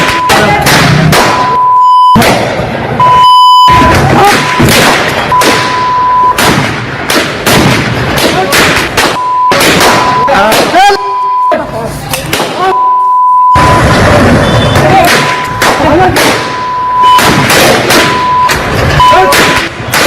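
Rapid bursts of loud gunfire crack over and over at close range during a street shooting, mixed with a steady electronic beep and shouting voices in the background.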